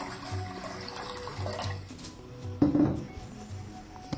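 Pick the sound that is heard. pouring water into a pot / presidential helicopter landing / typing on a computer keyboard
pouring water into a pot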